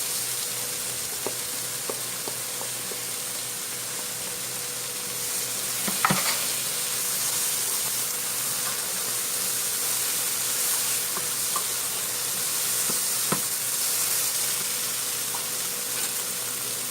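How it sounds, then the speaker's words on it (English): Green and red peppers sizzling steadily in a hot pan, a constant bright frying hiss with occasional stirring clicks and scrapes throughout. "Now we're going to go ahead and add a green pepper and a red pepper."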